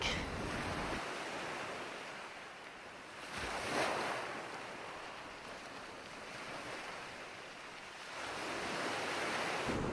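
Ocean waves break and wash in surges beneath a castle headland, with a few swelling crashes rising over steady surf and wind noise, heard from a moderate distance.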